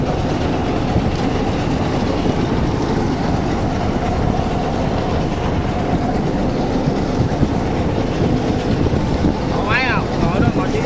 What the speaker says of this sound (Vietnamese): mấy anh em đi chiếc ghe này